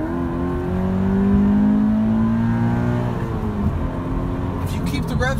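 The engine of a 2018 Subaru BRZ tS revs up on a test drive, its tone climbing and falling through the rev range as a voice talks over it.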